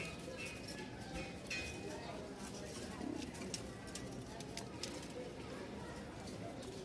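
A pair of Lahori pigeons in breeding mood coo softly among faint clinks and background bustle, the cooing low and muffled, with a person speaking nearby.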